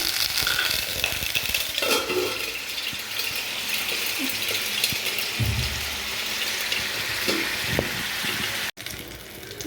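Oil poured onto a hot tawa for cooking, a steady loud sizzle with stirring and scraping bursts, a brief cutoff near the end, continuing alone without talk.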